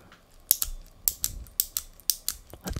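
A new revolver with a two-inch barrel gives crisp, close mechanical clicks and ratcheting snaps, repeating about every half second in a quiet, even rhythm.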